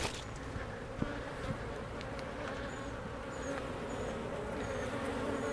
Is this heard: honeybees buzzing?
yes